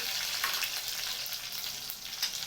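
Mustard seeds, cumin, curry leaves and green chillies spit and crackle in hot oil for a tomato curry, a busy, fairly soft sizzle with scattered pops throughout.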